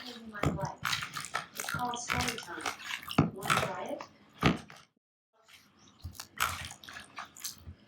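Cold water pours and splashes into a bowl of cut potato fries, with sloshing and clattering of the fries in bursts, close up and interrupted by a short pause; a person talks over parts of it.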